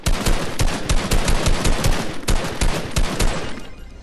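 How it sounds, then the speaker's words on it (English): Rapid bursts of gunfire from a Fortnite weapon shooting at a button, dense and loud with short repeated cracks packed into a few seconds, no voices. "You're going to shoot this 15 times."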